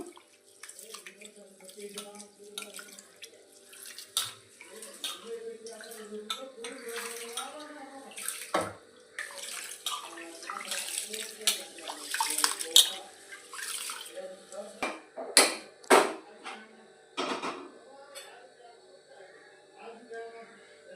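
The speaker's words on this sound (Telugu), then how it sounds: "ఇప్పుడైతే మామూలుగా కడుగుతున్నాను బియ్యం ముందు కడిగి అలా పెట్టుకుందాము" Rice being washed in water for egg biryani, with intermittent close splashing, swishing and pouring sounds and small clinks, while someone talks over them.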